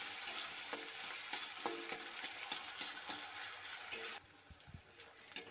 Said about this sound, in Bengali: পেঁয়াজ কুচি হালকা করে ভেজে নেব।